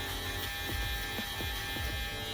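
Electric shaver buzzing steadily to finish a drop fade haircut, with a constant close hum that wavers slightly as the blade is flicked out across the hair.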